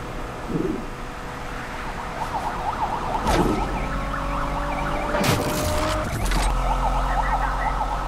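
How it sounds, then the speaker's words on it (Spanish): Police interceptor siren in the Need for Speed racing game, a loud wailing siren that rises and falls steadily for several seconds over a continuous engine drone, with no talk. "Alarma del interceptor."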